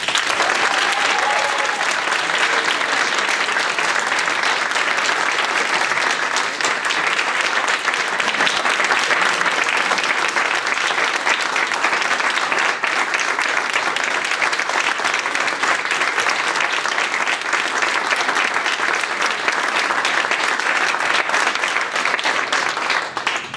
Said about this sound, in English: give these kids a big, huge round of applause